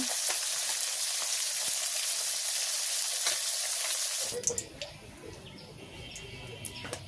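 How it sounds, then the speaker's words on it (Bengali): Pabda fish fry in oil in a village kitchen, a loud, dense sizzle for about four seconds before it drops to a quieter bubbling with scattered small crackles. "আমি এবারে সব মাছগুলো ভাজি করে নেব"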